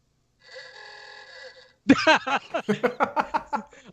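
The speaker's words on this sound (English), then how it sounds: "And David, what is your buzzer?" A quiz show buzzer gives a steady electronic ringing tone for about a second, followed by a burst of close laughter.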